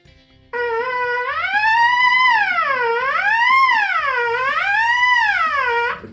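Continuous buzzed tone on a brass mouthpiece fitted with a B.E.R.P., sweeping smoothly up and down in repeated siren glissandos, loud and close, alone for about five seconds.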